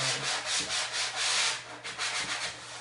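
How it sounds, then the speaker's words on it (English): Light hand sanding of painted wood to knock down raised grain: steady, close, back-and-forth abrasive rubbing strokes in a continuous rhythm, with no talking. "I'm just giving it a light sand just to make sure that it is smooth"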